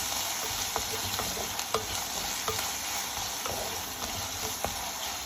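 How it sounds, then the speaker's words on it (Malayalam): Green chillies, curry leaves and shallots sautéing in oil for a sardine curry, a continuous close sizzle with occasional light clicks of a spoon against the pan, no voices. "പച്ചമുളക്, വേപ്പില എല്ലാം കൂടി ഇട്ട് ഒന്ന് നല്ലോണം വഴറ്റിയെടുക്കാം."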